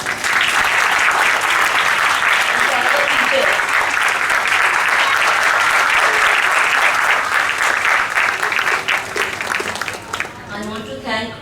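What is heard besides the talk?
applause for children performing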